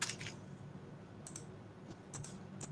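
Scattered computer keyboard key presses: a handful of sharp, light clicks in small irregular clusters, close up over a quiet room hiss.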